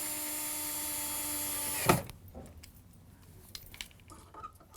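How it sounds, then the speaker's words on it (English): A power drill pre-drilling wood whines steadily for about two seconds, then cuts off with a knock, followed by quieter clicks and handling noises. "you help me out by doing some pre-drilling"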